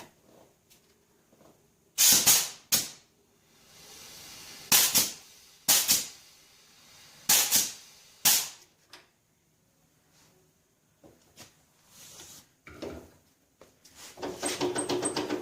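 A grease gun working on a stuck hydraulic lever of a John Deere 140 H1 tractor: sharp, hissing squirts in a handful of separate strokes with quiet gaps between, close up, and a faint spray near the end.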